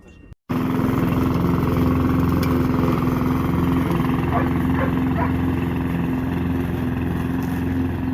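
A lawn mower engine starts up close and runs loud and steady with a droning hum, a brief gap of quiet before it catches, and a few faint knocks and voices under the noise.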